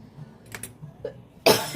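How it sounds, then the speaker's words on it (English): A single sharp cough bursts out near the end of an otherwise quiet indoor moment during crafting with glitter, preceded by faint rustling and small handling sounds. "Don't cough on this stuff, y'all."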